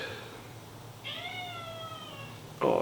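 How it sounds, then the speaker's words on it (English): A pet cat lets out one long, drawn-out meow nearby, then a sharper cry starts right at the end, with nothing else sounding. "Oh, I have to let my cat in."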